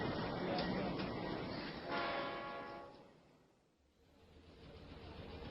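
A train at the Bialystok station sounds its horn in a brief tonal blast over rumbling rail noise. It is faint and distant and fades out before the rumble returns.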